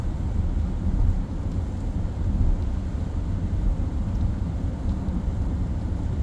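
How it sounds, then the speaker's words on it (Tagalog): Rain drums steadily on a car driving at highway speed, a dense, continuous hiss over deep road and engine rumble with no pauses and no talking. "Umuulan pa yan ha."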